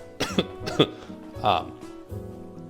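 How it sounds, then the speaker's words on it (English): A person coughs several times in sharp bursts, with a throaty cough following after a short pause, close and fairly loud. "After I cough."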